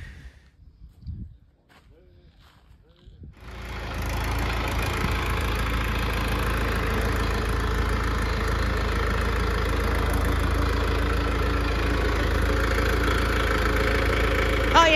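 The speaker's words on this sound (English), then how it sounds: "So tractor's better than a shovel any day of the week." A tractor engine runs near at steady idle while bark chip is dumped around a garden, a constant low drone that starts after a few seconds of quiet handling noises and holds unchanged.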